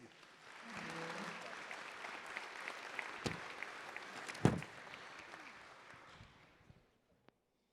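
Applause from a dinner crowd at a college football awards banquet honoring All-American student athletes, swelling in, holding steady with a few sharp claps standing out, then trailing off to silence near the end.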